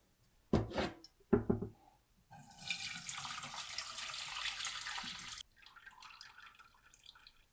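Broth strained from a pot for birria: two sharp knocks of a pot or strainer, then a steady pour of liquid splashing and running for about three seconds, and afterward softer trickling and drips.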